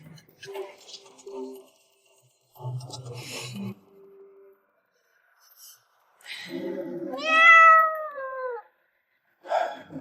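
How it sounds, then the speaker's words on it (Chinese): A stray cat that has slipped indoors gives a single drawn-out, falling meow amid scattered brief voices and small noises in a quiet room. "估计是野猫钻进来了"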